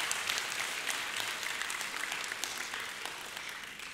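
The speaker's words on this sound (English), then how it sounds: "Let's give everybody a big round of applause." An audience at a Battle of the Books 2017 quiz competition applauds steadily after a round ends, a dense, even wash of clapping at moderate volume with no voices on top.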